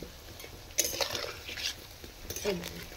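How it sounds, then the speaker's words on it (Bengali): Palm fruit fritters (taler bora) fry in oil with a low sizzle, broken by the clink of a metal utensil against the pan and some stirring; close by, with no talk. "লাল লাল করে ভেজে নিতে হবে।"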